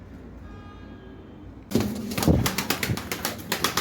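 A Kayseri pigeon coos in a quiet space, then a burst of sharp rhythmic tapping and fluttering noise takes over, close and fairly loud.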